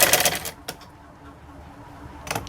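A sewing machine stitches pieces of kurti fabric laid along a straight seam line, a short rapid burst of needle clatter at the start, then near quiet, then another brief run near the end.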